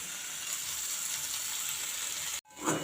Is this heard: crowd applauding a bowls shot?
no